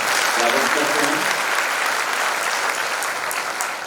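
An audience claps loudly and steadily, a dense wash of applause that holds throughout and tapers only slightly near the end.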